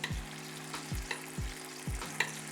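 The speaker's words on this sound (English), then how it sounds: "We have our emulsified butter. We're not going to add any of the solids. We start to baste." Emulsified butter sizzles in a hot pan as it is spooned over a shio koji rack of lamb with thyme and garlic. A steady fry runs under rhythmic scrapes and taps of the basting spoon, close up, with no voices.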